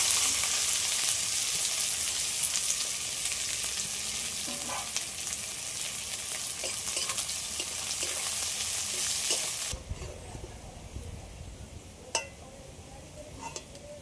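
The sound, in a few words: chopped onions frying in oil for beresta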